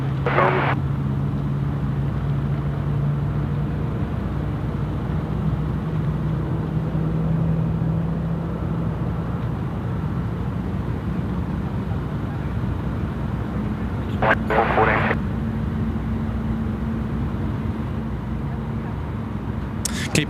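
An aircraft taxis onto a stand at Sydney Airport in the evening, a steady low engine drone with a tonal hum that shifts partway through, heard under ongoing talk.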